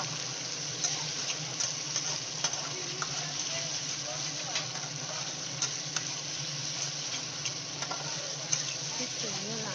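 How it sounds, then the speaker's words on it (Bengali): A spice paste for a fish and potato curry sizzles and fries steadily in a pan over browned onions, with a dense, continuous crackle and occasional stirring scrapes close by. "দেখুন আমার মশলা কষা হচ্ছে সুন্দরভাবে, দারুণ গন্ধ ছাড়ছে।"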